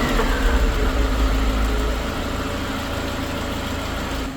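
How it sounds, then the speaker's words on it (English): A Mercedes-Benz B-Class engine idles steadily while warming up, with a low rumble that softens slightly after the first couple of seconds. "Now I'm going to warm up the engine and test again."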